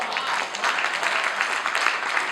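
An assembly audience applauds after a recited verse, dense, steady clapping close and loud throughout the short stretch, without a break.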